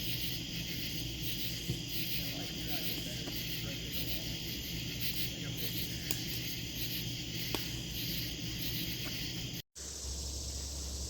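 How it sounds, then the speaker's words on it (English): Dense, steady insect chorus of cicadas and crickets with frog calls blended in, loud and continuous at night at a campsite in Ohio's Hocking Hills, broken by a brief dropout near the end. "I'm just going to let you hear these cicadas here are so loud"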